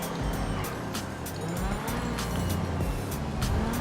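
In GTA 5, a car engine roars loudly and continuously with rough tire squeal and skidding, interrupted by repeated short impacts, close up and with no talk over it.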